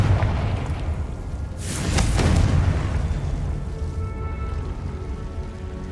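A Confringo blasting spell in Hogwarts Legacy bursts into a single loud explosion partway through, its bright crack giving way to a deep rumbling tail over steady low background noise.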